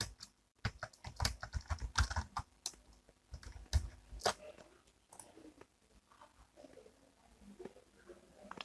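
A password typed on a computer keyboard, with irregular clusters of close, crisp key clicks and short pauses between strokes, quiet and alone.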